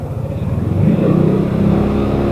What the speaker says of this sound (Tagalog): So, isa daw to ng motor mga idol.